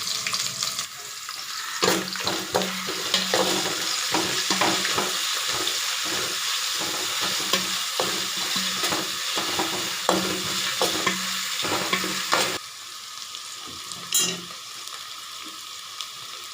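Onions with cinnamon frying for chicken biryani, sizzling steadily while a spoon stirs and scrapes the pan in repeated strokes, close and clear with no talk.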